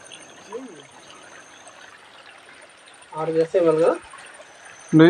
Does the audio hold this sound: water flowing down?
yes